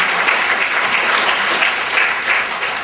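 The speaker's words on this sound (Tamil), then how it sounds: "அவங்களுக்கு ஒரு மிகுந்த கரகோஷத்தை கொடுத்து நன்றி தெரிவிப்போம்." Audience applause for guests at a class reunion gathering, a dense, sustained wash of many hands clapping that stays loud and even for about three seconds and tapers slightly at the end.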